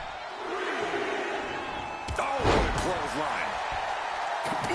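A wrestling clothesline in the WWE 2K26 video game lands as a sharp slam midway, over a loud, steady arena crowd roar with shouts and game commentary talk running throughout.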